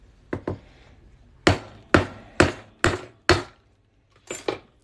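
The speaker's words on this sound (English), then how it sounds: "And we're going to hammer this on through." Metal hammer strikes on a 1974 quarter being shaped into a ring, seven or eight sharp ringing blows in an uneven rhythm, close and loud, with brief decaying rings and a short pause before the last pair.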